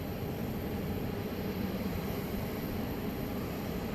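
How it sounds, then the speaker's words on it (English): Boeing 737 MAX 8 airliner at Dallas Love Field on a Saturday night, a steady low engine roar rumbling continuously at moderate distance without any talk. "This is going to be Flight 1446 from Denver, a MAX 8 on Runway DFW, live at Dallas Love Field"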